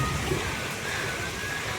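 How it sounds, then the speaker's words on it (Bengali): Light rain falling in a village just after a storm, a soft, even wash of patter that stays steady for the whole short stretch without talk. "ঝড়টা থেমে গিয়ে বৃষ্টিটা শুরু হয়েছে।"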